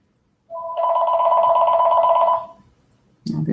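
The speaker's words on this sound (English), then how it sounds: "Oh, there's the phone." A telephone bell rings once in a single loud, sustained trill of about two seconds that then fades out, followed by the start of a voice.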